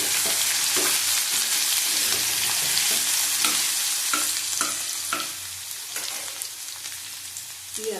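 Potatoes frying in oil in a pan, a loud, continuous close sizzle broken by repeated scraping taps of a spatula stirring them, gradually quieting toward the end.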